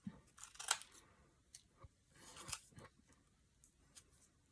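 Scissors snip through paper to make paper flowers, a handful of soft, close crisp cuts spaced irregularly across a few seconds in a quiet room, with no talking.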